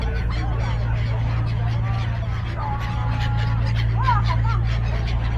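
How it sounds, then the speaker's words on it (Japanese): A flock of gulls being fed by visitors from a boat on Lake Tai near Wuxi, China, gives scattered squawking calls over a loud, constant low engine drone. "大量のカモメ。"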